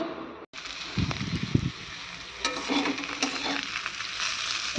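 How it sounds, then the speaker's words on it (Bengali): Onion stalks and bottle gourd peel frying in a pan: a sudden loud hiss starts after a brief silence, with rustling stirs and spatula clatter over a steady bright sizzle. "পেঁয়াজ কলি দিয়ে হবে লাউ খোসা ভাজা, আর পেঁয়াজ কলিটা একটু ভেজে নেওয়া হচ্ছে"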